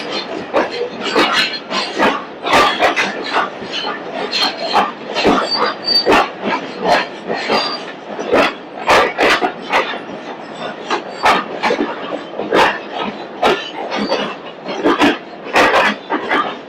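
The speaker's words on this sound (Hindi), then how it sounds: "मुल्तान और कराची के माध्यम चलने वाली दूसरी एक्सप्रेस।" An express train running between Multan and Karachi, rattling loud and steady with rapid, irregular clatter and knocking over a constant rumble throughout.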